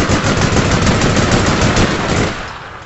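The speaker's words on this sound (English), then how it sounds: "Oh man, the recoil on this gun is ridiculous." Rapid automatic gunfire from a weapon in the online game APB, loud and continuous in dense bursts for nearly three seconds before easing off slightly at the end.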